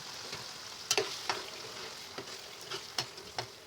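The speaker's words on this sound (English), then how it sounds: "I just give it a good stir." Tomatoes and onions frying in a pot get stirred with a spoon, a steady sizzle underneath and several sharp scraping knocks of the utensil against the pot, close and moderately loud.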